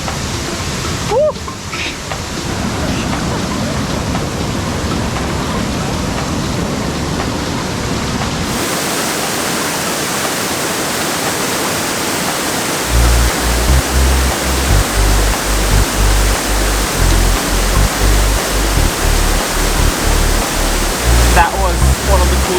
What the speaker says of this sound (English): Time to get in the waterfall.